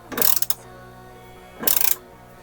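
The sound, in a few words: tightening coilover mount screws on BMW E46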